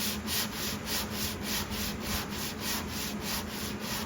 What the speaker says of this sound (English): why I like working with pine is it just sands so beautifully